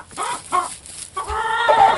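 Laying hens clucking close by, a few short bursts followed by a longer run of drawn-out, throaty clucks, loud and clear with no talking.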